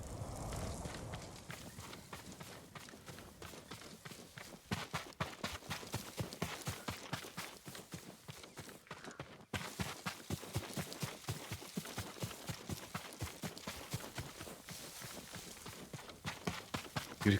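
Horse hooves clip-clop in Ghost of Tsushima, a steady rhythmic gallop of close, loud strikes that runs for the whole stretch with a brief break midway.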